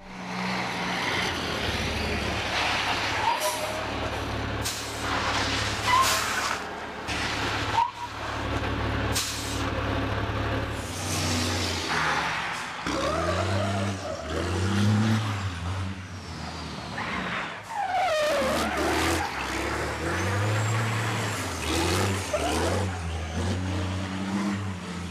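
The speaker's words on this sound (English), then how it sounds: "This lorry driver is skillfully maneuvering a lorry." A heavy lorry being manoeuvred, with a continuous diesel engine rumble that rises and falls, air-brake hisses and mechanical clatter throughout and no voices.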